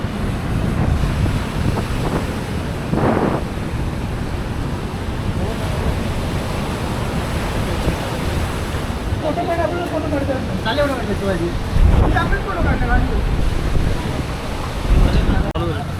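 Surf rolls and washes continuously at Kashid Beach beneath heavy wind rumble on the microphone, with people talking in the middle stretch.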